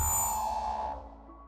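Teleporting sound effect from the video game Neon Blight, a single bright chiming ding that rings and fades out within about a second, clean and isolated.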